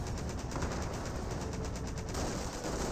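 MG42 machine gun firing in the World War II strategy game Company of Heroes: a dense, rapid rattle of bursts at a steady level under a continuous background of battle noise, fairly faint overall, with no talk.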